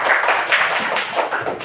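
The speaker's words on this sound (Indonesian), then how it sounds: "tepuk tangan untuk kelompok 3" A classroom group claps for group 3 in a short, steady burst of applause that fills the whole moment at close range.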